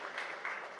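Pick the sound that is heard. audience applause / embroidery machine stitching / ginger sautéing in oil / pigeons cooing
audience applause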